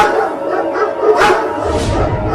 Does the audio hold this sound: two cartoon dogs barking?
yes